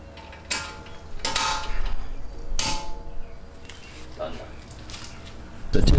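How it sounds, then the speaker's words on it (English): Metal clicks and creaks from a spindle spreader being pulled out and locked onto a Bilstein B8 strut with H&R Sport springs, a few sharp mechanical ratchet-like snaps in a quiet workshop. "I'm gonna pull this spindle spreader out to lock it into place"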